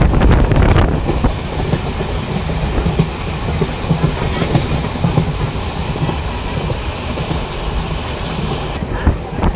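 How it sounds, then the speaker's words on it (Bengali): A small MEMU passenger train runs on rails through a big curve on the way to Deoghar, steady loud rumble and rhythmic clickety-clack of wheels throughout, close and continuous with no talk. "ট্রেন এটা তার ফার্স্ট হল্ট আদল পাহাড়ি বলে একটা স্টেশনে এন্টার করছে"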